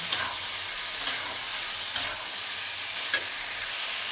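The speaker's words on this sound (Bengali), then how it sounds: "দিয়ে কিছুক্ষণ নাড়াচাড়া করে নেব" Fried pumpkin, potato and soaked chana dal are stirred in a pan, giving a soft continuous sizzle broken by three or four light spoon scrapes and knocks at a slow, uneven pace.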